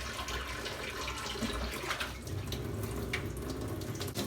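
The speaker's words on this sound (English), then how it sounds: "So you want to wash their bowls up." Tap water runs steadily into a sink while guinea pig food bowls are washed, a continuous close splashing hiss with no voices.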